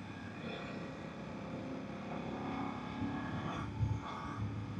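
Motorcycle ride aboard a BMW F800 GS, its engine running steadily at close range beneath broad wind rush, with a brief louder swell near the end.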